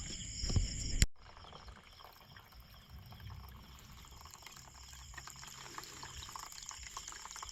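Water runs steadily from a tap while cassava leaves are washed, a close continuous splashing hiss after a sharp knock near the start.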